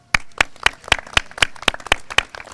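An audience at a swimming pool opening claps in an even rhythm, about ten loud, sharp beats close by, like a small crowd applauding together.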